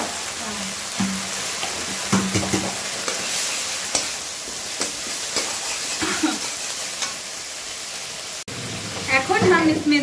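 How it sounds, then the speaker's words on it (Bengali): Food fries in a pan with turmeric just added, a steady faint sizzle with scattered stirring clicks and scrapes, while a person talks quietly over the cooking. "ভাজবো একটু"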